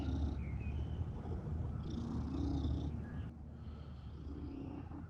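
A male cat purrs close by while out on grass in the open air, a soft continuous rumbling that swells and fades with his breathing, with faint chirps and no talking.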